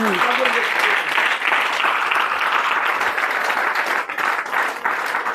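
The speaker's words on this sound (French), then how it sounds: "Acclamez très fort Jésus" A church congregation applauds loudly and steadily through a French-language worship service, a dense continuous wash of clapping with a few voices mixed in.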